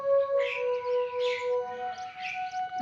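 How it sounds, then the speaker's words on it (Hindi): A few bright bird chirps and whistles come in short bursts over a steady tonal hum, fairly clear against a quiet background. "चिड़ियों की आवाज़ें"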